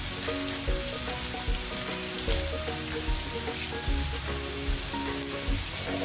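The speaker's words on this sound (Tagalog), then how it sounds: "Hintayin natin mag-brown ng konti yung meat." Chicken pieces browning in a frying pan, a dense continuous sizzle and crackle with occasional stirring scrapes, close and steady throughout.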